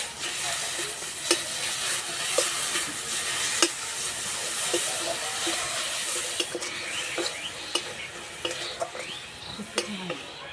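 Grated carrot filling cooks with date palm jaggery in a karahi, giving a soft, close sizzle under scraping and clacking as a spatula stirs and knocks against the pan at irregular intervals.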